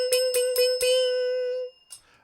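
A bright bell rings four quick times on a live show, the last strike ringing out and fading over about a second, followed by a short faint chime.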